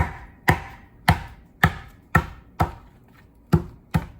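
Knife striking a lemongrass-like stalk on a cutting board, mostly the white part, in a home kitchen: seven sharp, close thuds at a loose, steady rhythm with short gaps between them.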